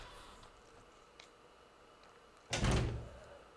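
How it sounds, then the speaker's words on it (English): After quiet ambience and a faint click, a door aboard a train in the video game Resident Evil 0 opens with a sudden heavy thunk and short scraping rush. "I didn't expect that door to open"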